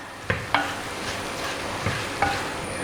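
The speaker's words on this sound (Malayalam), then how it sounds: "ഇനി നമുക്ക് നന്നായിട്ട് ഇതൊന്ന് മിക്സ് ചെയ്ത് കൊടുക്കാം." Masala is stirred into cooked pork in a frying pan, giving a steady sizzle with four or five sharp scraping strokes of the spoon against the pan, close and clear, with no talking.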